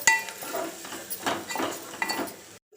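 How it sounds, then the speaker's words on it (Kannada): A spoon stirs fried okra in a pan for bendekai palya, giving a series of soft metallic scrapes and clinks close by, with no talk. "ಹುರಿದಿರುವಂಥ ಬೆಂಡೆಕಾಯಿ ಹಾಕ್ಕೊಂಡು ಚೆನ್ನಾಗಿ ಮಿಕ್ಸ್ ಮಾಡ್ಕೊಳ್ಳೋಣ"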